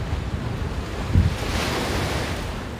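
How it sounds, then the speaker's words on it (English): Waves crashing on a small beach in New York City, a loud, continuous wash of surf with heavy wind noise on the microphone and a brief low thump partway through. "Oh, I love the sound of crashing water too. It's a little beach here."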